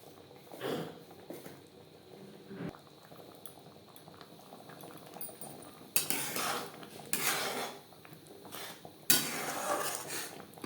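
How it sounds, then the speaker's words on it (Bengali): Roasted spice mix, including dry-roasted ground red chilli, being stirred into a raw mango jelly chutney in a pan, with soft scraping and clinking of a spoon against metal and bursts of bubbling, no talk. "ভাজা মশলা চাটনির সাথে বেশ ভালো করে মিক্সড করে দেবো"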